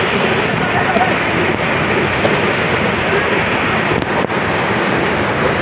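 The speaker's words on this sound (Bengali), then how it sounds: "দেখছেন ঢেউগুলা কত সুন্দর ঢেউ আছে।" Sea waves break on the beach at Chittagong in a steady, broad roar of surf with wind buffeting the microphone, continuous and loud with no distinct talking.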